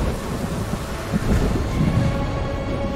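Thunder rumbles with rain and wind in the video game Ori and the Will of the Wisps, a low rolling storm that swells midway and stays loud and continuous with no voices.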